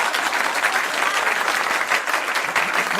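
An audience breaks into dense, sustained applause, loud and close, a steady wash of clapping throughout with no pauses.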